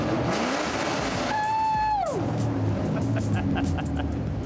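Engine of a modified Ford Mustang wide-body supercar project revving up sharply to a held high note before dropping into a rough, loud idle, with people talking over it.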